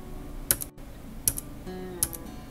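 A computer keyboard clicks as a name is typed and Enter is pressed, three sharp distinct key strikes spaced evenly apart, close and fairly quiet against a faint background hum.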